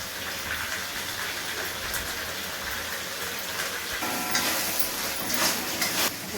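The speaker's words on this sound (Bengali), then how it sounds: "মশলা আমি এবার কষিয়ে নেবো" Ground spices with turmeric, salt, coriander and Kashmiri chilli powder sizzle and crackle while being sautéed in a pan for a fish curry, a steady close frying hiss that grows brighter and busier toward the end, with no talk.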